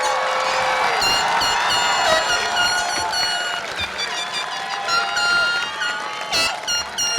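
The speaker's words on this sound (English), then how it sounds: "Give me one more round of applause for the class of" Graduation ceremony audience for a high school class of 2026 applauds and cheers in a large hall, steady dense clapping with crowd shouts throughout, loud and sustained with a faint voice at times.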